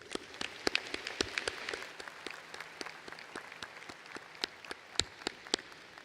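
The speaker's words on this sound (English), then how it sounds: "Let's start with another round of applause for the class of 2022." An audience applauds the Central High School class of 2022 at a graduation ceremony, a steady spatter of individual claps from a moderate crowd, fairly distant and even throughout.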